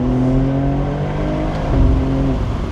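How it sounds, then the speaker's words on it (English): Muffled drone of a turbocharged car engine on a road in Zimbabwe, a steady hum with tonal whine that swells slightly as it pulls, heard from inside or close by, with no talk. "it sounds pretty good, but being turbocharged, it's muffled like all turbocharged cars are"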